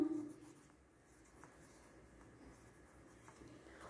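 Handwriting a word in French schoolwork: faint, close scratching of a pen on paper over a few seconds, soft and continuous, with no talk.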